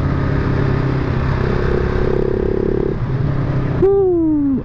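A supermoto motorcycle rides along with a steady, loud engine drone and wind rush, briefly shifting in tone before the revs drop away sharply at the end.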